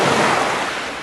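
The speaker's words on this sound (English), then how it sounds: "There's also waves." Ocean waves layered into an AI-generated lo-fi beat form a steady, broad wash of surf that holds loud and even from start to finish, with no voices.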